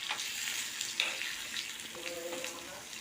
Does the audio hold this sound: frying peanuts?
yes